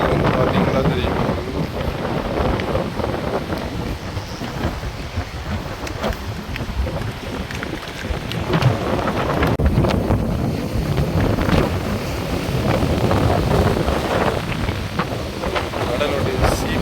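Rough sea waves crash and splash beside a main coastal road, a continuous loud roar of surf mixed with heavy wind buffeting the microphone, with someone talking underneath.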